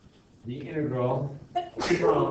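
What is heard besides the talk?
sneeze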